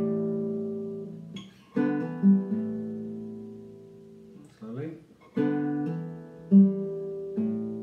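Electric guitar plays a riff, ringing open strings with a hammer-on, sustained harmonic notes in a steady phrase, repeated twice, close and clean with no talk.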